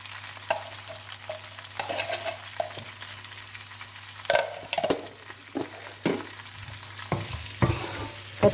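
Eggplant sautéing in hot oil in a pan for a Tamil ennai kathirikai dish, a steady close sizzle broken by scraping spatula strokes and occasional sharp clinks against the pan.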